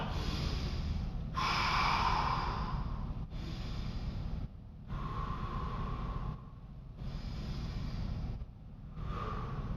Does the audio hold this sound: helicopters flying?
no